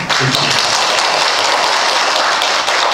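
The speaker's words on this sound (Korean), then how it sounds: "힘찬 박수로 모십니다" A lecture audience applauds to welcome a speaker to a Buddhist temple-architecture talk, a dense, steady wash of clapping filling the whole stretch at close range without a break.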